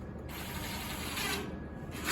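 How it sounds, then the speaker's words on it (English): Screws are driven through a wall's sole plate into the subfloor, a close, whirring ratchety drill burst that rises and fades in quick pulses over a couple of seconds. "So the first two screws tie it back into the other wall here."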